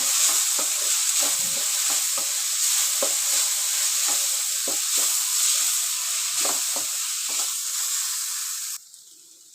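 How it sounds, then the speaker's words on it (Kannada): Capsicum and egg fry with chili powder and turmeric is stirred in a hot pan, a loud, constant sizzle marked by repeated close scraping strokes of the spoon, with no talking. "ನಾನು ಖಾರಕ್ಕೆ ಒಂದು ಸ್ಪೂನು ಚಿಲ್ಲಿ ಪೌಡ್ರ್ ಇದ್ದೀನಿ ಅದು ಚೆನ್ನಾಗಿ ಮಿಕ್ಸ್ ಮಾಡ್ಕೊಳ್ಳೋಣ"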